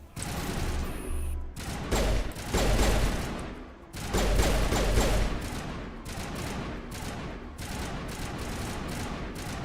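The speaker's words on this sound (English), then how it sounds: "They're shooting over there" Enemy gunfire in Mass Effect Legendary Edition comes in loud, dense bursts of rapid shots, with short gaps between volleys and a few mechanical clicks.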